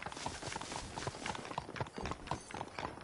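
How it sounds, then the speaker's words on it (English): Horses' hooves clip-clop in a steady, fairly close rhythm on a hard surface, continuous through the clip with a faint hint of background voices. "bring the horses around front"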